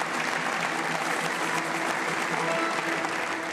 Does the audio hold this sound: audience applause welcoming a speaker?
yes